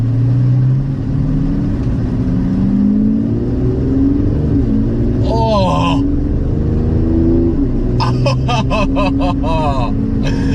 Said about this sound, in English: I love the sound that this car is producing already